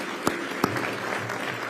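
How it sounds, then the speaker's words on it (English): Dense, continuous applause at an arts and cultural tourism awards ceremony, with a couple of sharper claps standing out near the start. "let's have another round of applause for Kenzie Young"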